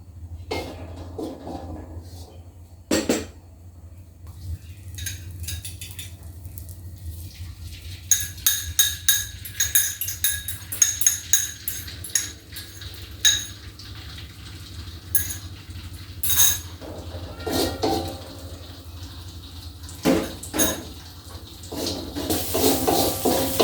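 Wok and utensils clattering in a home kitchen while fried rice vermicelli is cooked, with scattered clinks, scrapes and metallic knocks in irregular bursts over a steady low hum, no talking.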